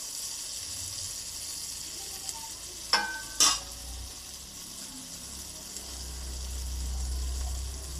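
Fried potato and pointed gourd sizzle in a pan of spiced masala with slit green chillies, a steady close hiss broken by two quick clacks of the stirring utensil.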